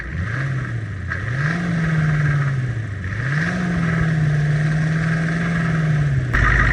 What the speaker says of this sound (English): now I can rev it up without dying